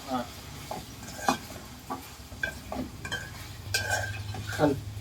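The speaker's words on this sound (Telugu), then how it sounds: "ఇక వంకాయలు వేసుకుందాం. కలుపు." Eggplant curry stirred in a pan with a low continuous sizzle and repeated scraping, clinking strokes of a spoon against the pan, close and fairly quiet, with no talking.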